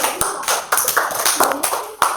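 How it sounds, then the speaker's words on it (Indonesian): Classroom clapping for a student after her presentation in an Indonesian teacher-training lesson, a small group of hands giving brief, uneven claps at close range. "Kasih tepuk tangan untuk Mbak Dewi."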